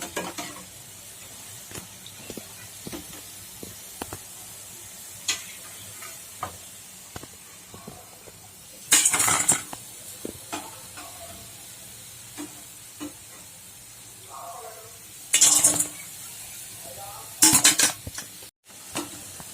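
Black-eyed pea fritters (alasanda vada) fry in hot oil with a steady close sizzle, while a utensil gives repeated light clinks and stirs and louder hissing surges flare up a few times.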